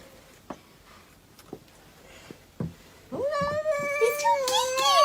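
A guard cat confronting an estate agent in a bedroom lets out a drawn, rising meow that swells into a loud, sustained yowl, following a few soft thumps and rustles.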